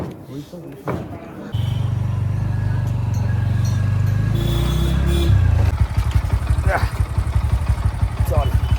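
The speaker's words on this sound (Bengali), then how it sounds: "সাইড দিয়ে সাইকেল যাচ্ছে এই যাচ্ছে বাইক যাচ্ছে" A motorbike passes along the road nearby, its engine a steady, loud low rumble that swells and then gives way to a rougher, pulsing throb as it moves off.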